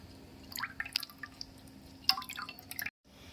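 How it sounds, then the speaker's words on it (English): Water dripping and trickling out of the overflow hole of an XM278 MATE machine, a quiet run of small irregular drips and splashes, close and faint, ending in sudden silence. "If the water inside is full, it will come out from the water overflow hole."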